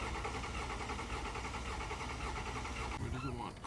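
A 2020 Toyota Supra with a blown engine runs with a steady, rough mechanical drone, rising slightly near the end as the throttle is blipped.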